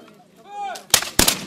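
A musket volley at a Napoleonic military reenactment in the coastal French fortress village of Brouage, heard as two sharp, loud, close blasts in quick succession after a spoken command.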